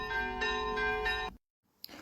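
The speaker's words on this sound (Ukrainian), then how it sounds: "Церковний дзвін доноситься до небес звістку про Воскресіння Христа." An Easter church bell rings out in two or three resonant strokes with ringing overtones, then cuts to near silence before faint background sound returns.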